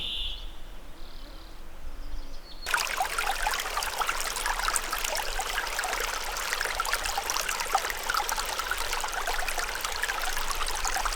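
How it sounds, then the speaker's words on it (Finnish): A river babbles through a birch grove in a forest wilderness, a steady, close rushing and trickling of water that fills the scene without pause after a quieter opening moment. "Ja kuulen joen solinaa."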